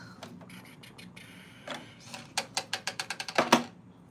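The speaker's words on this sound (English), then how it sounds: "I'm gonna wind this bobbin" A home sewing machine winds a bobbin, giving quick mechanical clicks and a rapid rattling burst of evenly spaced taps, heard close and at moderate volume with no voices.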